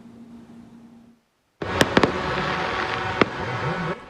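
Firecrackers set off at the opening of a steel temporary bridge over a river in Hualien, Taiwan: after a short quiet gap, a dense crackling burst erupts with several sharp loud bangs standing out, continuing steadily to the end.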